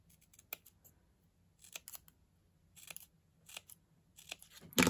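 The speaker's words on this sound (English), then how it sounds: "and I have to cut this as well." Scissors cutting paper for a children's snowman votive holder craft, a handful of separate crisp snips spaced a second or so apart, close and quiet with no talking.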